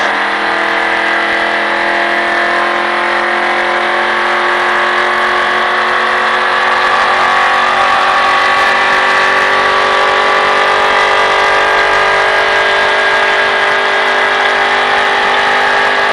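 A car engine revs and accelerates steadily as the driver holds the gas, a loud continuous drone with rising tone that carries throughout without speech.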